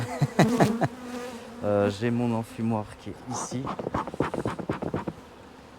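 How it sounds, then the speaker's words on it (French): Honey bees on four hive frames during a queen-rearing session buzz in a steady hum close by, mostly beneath someone speaking French. "Donc là, on se retrouve avec ces 4 cadres, pas mal plein d'abeilles."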